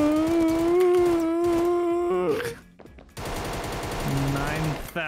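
Rapid automatic gunfire in a chaotic multiplayer minigame shooter, rattling loudly under a sustained musical tone, then dropping out briefly before a burst of busy combat noise resumes.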